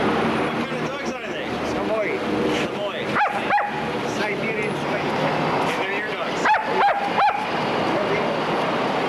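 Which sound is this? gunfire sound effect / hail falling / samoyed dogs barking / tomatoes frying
samoyed dogs barking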